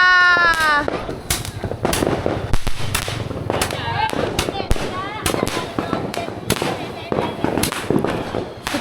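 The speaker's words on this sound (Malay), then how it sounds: "kita orang main mercon, main bunga api." Firecrackers and fireworks set off on the night before Hari Raya, a run of sharp bangs and crackling bursts with whistling rising tones, heard close and loud while people shout and cheer throughout.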